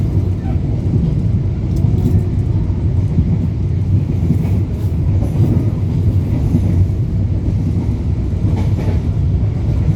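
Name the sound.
passing KTL train crossing on railway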